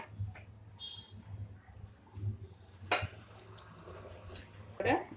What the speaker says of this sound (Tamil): இப்போ நம்ம குக்கரை தோசைக்கல் மேலே வச்சிடலாம்.